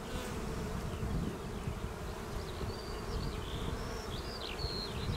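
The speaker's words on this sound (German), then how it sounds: "Hier unten sieht man jetzt viele Bienen, die mit Löwenzahnpollen nach Hause kommen." Honeybees flying in and out at a hive entrance in April, returning loaded with yellow dandelion pollen, make a steady, dense buzzing drone that stays at an even level throughout with no voices.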